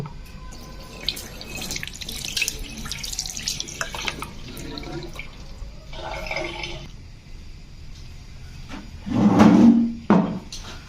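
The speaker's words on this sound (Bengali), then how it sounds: "এখন পিলারটি হচ্ছে ধুয়ে নেব" A vegetable peeler is rinsed under a running kitchen tap, with water splashing and trickling in a sink, light clinks and handling knocks, and a louder burst of flowing water near the end.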